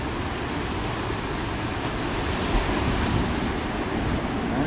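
Ocean surf and churning white water at a surf spot with plenty of swell, a steady loud wash of breaking waves with wind rumble, recorded close from a surfer's POV camera.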